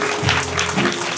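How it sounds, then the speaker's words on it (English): A theatre audience at a Camden Fringe murder-mystery show breaks into a short burst of steady applause, with a faint hum running underneath. "So if you could please give a warm round of applause to Lee as you join me up on stage."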